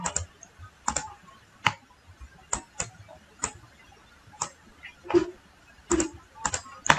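Irregular keystrokes and sharp clicks on a computer keyboard, some in quick pairs and others spaced apart, sounding close and fairly crisp against a quiet room, with no talking.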